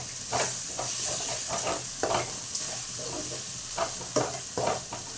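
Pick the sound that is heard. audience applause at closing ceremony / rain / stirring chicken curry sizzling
stirring chicken curry sizzling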